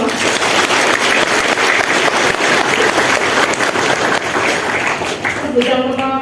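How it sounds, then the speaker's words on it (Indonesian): An audience claps steadily and loudly at a civil servant swearing-in ceremony, a thick sustained wash of applause that fades as a voice begins near the end. "Silahkan tepuk tangan untuk semua."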